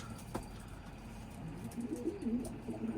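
Pigeons on a rooftop coo softly and low, a short rolling call rising near the end over faint outdoor background noise.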